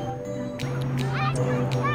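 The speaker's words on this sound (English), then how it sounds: "These aren't pigeons, Sissy. They're seagulls." Seagulls call in a series of short, nasal, rising cries, several overlapping at moderate distance over a steady low hum.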